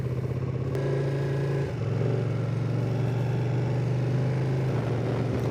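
A Ducati Panigale 959 engine runs loudly up close, its tone shifting and climbing as it revs, with a steady throbbing drone throughout.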